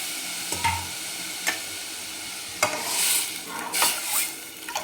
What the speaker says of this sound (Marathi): हिरवी मिरची कच्ची असल्यामुळे एक अर्धा मिनिटभर आपण तळून घेऊ याला